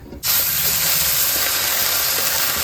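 A paste of ground mustard, poppy seed and cumin hits hot fish oil for a hilsa curry, bursting into a loud, steady sizzling hiss that holds close and even after a brief silent start.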